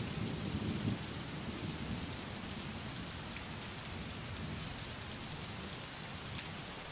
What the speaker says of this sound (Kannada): ಚಿಕ್ಕಬಳ್ಳಾಪುರ ಜಿಲ್ಲೆಯಾದ್ಯಂತ ಧಾರಾಕಾರವಾಗಿ ಮಳೆ ಸುರಿತಾ ಇರುವಂತದ್ದು